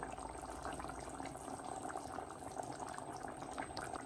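A Kerala dried fish mango curry simmering in a pot, a faint, continuous bubbling and gurgling that holds steady throughout with no one speaking.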